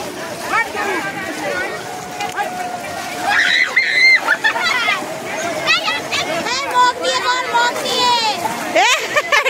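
Water splashes and sloshes as a child and an adult take a dip while bathing, likely in a pond or river during a Nil Shashthi ritual; the splashing is close and lively, mixed with talking voices throughout.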